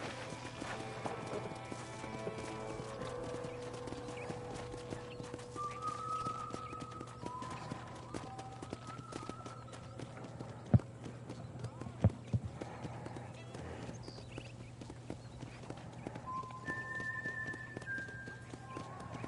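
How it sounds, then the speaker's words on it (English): Horse hooves clip-clop steadily at a walk in the remastered Red Dead Redemption on PS4, with a few louder hoof strikes partway through. Characters talk over the hoofbeats. "I picked out a fine horse for you."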